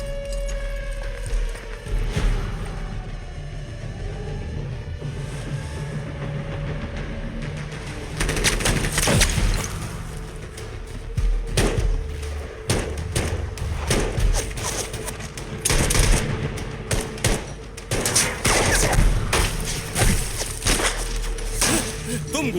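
Gunfire and explosive thuds from a Hindi-dubbed war film scene, with bursts of shots, impacts and crashes over music and tense shouted dialogue, loudest in dense clusters through the second half.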